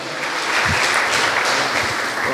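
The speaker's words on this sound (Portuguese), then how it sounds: "Você pode dar um aplauso a Jesus Cristo, Ele é fiel." A church congregation claps together in a steady, moderately loud burst of applause that fills the room, with no voices over it.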